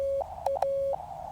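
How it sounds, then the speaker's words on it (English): Steady Morse code CW sidetone in a radio receiver, a continuous pure tone briefly broken by a few louder keyed dits that stand out sharply, heard close and alone with no talk. "Loud dit."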